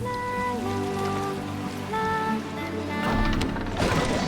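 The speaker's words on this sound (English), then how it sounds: "Oh, it's magic rain. Drizzle, drizzle." Rain falls as a steady drizzle in the game Genshin Impact, layered with sustained musical tones, growing denser and louder toward the end.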